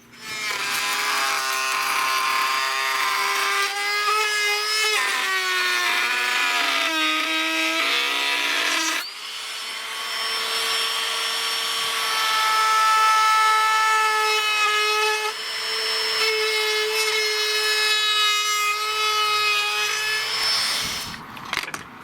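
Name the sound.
Ryobi cordless router cutting wood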